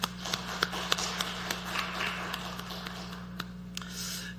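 A church congregation at a Wednesday worship service claps for the worship team in scattered, fairly faint separate claps over a steady low background hum.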